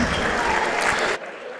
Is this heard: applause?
yes